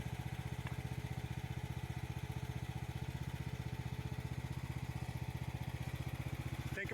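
An AGT MX15R mini excavator's small engine chugs in a fast, even, rhythmic idle-like pulse while the boom is lifted, steady and moderately close, with a brief clunk at the end.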